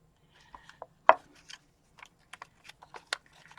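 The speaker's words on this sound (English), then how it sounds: "I use my little scissors." Small scissors cutting paper pieces for altered chalkboard crafts snip in a series of crisp, quiet clicks at irregular intervals, with one louder snap early on and no talking.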